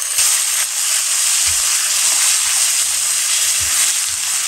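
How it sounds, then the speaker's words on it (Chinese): Marinated pork belly frying in hot oil in a wok, a loud, steady close sizzle with a dense hiss and a few soft thumps of stirring, no voices. "锅里油热，下入腌好的肉"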